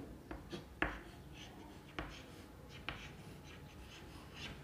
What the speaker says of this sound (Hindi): तो हम आंसर लिखेंगे